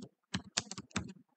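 Quick, irregular keystrokes on a computer keyboard, close and fairly quiet, tapping out a short burst of words with brief pauses between clusters of keys.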